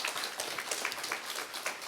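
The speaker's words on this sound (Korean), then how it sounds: "자, 우리 성가들을 놓고 한번 정말 진심으로 이렇게 좀 힘이 실어주는 박수 한번 치십시다." A church congregation claps for its choir during a service, a short burst of dense, lively applause with no voices.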